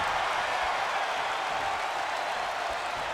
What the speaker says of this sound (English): You hear the crowd going crazy.